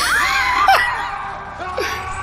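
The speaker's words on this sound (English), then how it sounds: "Oh, he's getting angry. He's screaming." A video game character screams angrily in a strained, wavering cry that rises and falls, followed by a few shorter yelps, loud and close.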